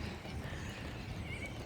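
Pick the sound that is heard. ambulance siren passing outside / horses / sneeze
horses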